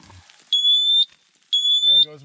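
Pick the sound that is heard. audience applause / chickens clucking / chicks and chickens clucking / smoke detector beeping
smoke detector beeping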